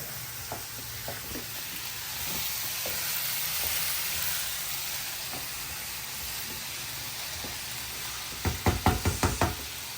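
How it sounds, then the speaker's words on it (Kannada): Vegetables frying in a pan on a low flame, a steady close sizzle and hiss with occasional soft knocks and a quick burst of spoon taps against the pan near the end. "ಇದು ಫ್ರೈ ಗೋಲ್ಡನ್ ಕಲರ್ ಆಗೋವರೆಗೂ ಸಿಮ್ಮಲ್ಲಿ ಇಟ್ಟೋಣ"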